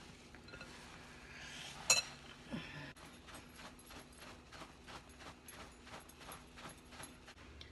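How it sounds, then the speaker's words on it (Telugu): Soy chunks being mixed with cornflour in a bowl, a steady run of soft clinks and scrapes from a spoon against the dish, with one sharper knock early on. "అన్నీ వేసేసుకొని అన్నిటికీ కోట్ అయ్యేలాగా మిక్స్ చేసుకోవాలండి"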